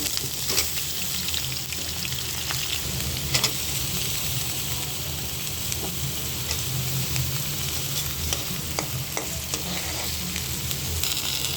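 Onions sizzle steadily in hot oil for a spicy brain bhuna, with scraping stirs and occasional sharp spatula clicks against the pan, close and continuous with no voices.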